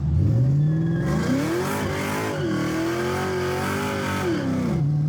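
A tuned Cobra in a racing video game revs hard, its engine note climbing, dipping and climbing again in loud sweeping pulls with a faint tire-squeal edge, running continuously and close with no voices.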